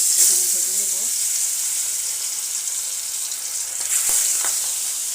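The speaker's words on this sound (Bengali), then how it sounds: "তা গরম হয়ে গেছে, মাছটা এখানে ভেজে নেব।" Fish frying in hot oil, a bright continuous hiss and sizzle close by with a few faint spatters and pops near the end, a brief low voice-like murmur at the start.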